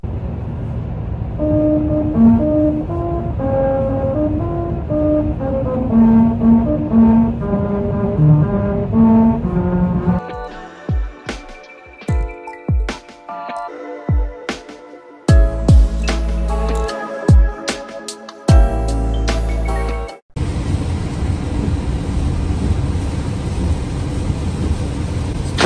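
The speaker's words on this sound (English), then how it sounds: "There are roads in Europe that play songs when you drive over them." A car drives over a musical road in Europe, its tyres drumming out a melody of tuned notes for about ten seconds before the sound cuts abruptly to unrelated loud bangs and a bright hiss.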